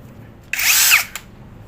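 An affordable two-speed cordless drill whirs up, runs briefly at a steady high pitch for about half a second, and winds down, followed by a short click, heard close and alone.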